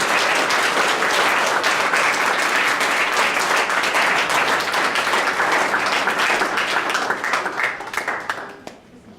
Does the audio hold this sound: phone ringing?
no